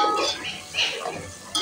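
Potatoes and green chili paste being stirred in a cooking pot, with faint scraping and clinking of a spoon against the metal in a few short, soft strokes.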